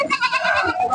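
A goat bleats at a livestock market (bakra mandi), a short, close, wavering cry heard alone.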